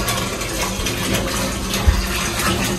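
Hot water gushes from an indoor tap in a steady, loud, close stream, with a single brief low thump partway through and no talking.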